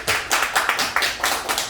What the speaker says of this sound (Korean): 우리 멀리서 와주신 우리 동생한테 큰 사랑의 박수 보내시기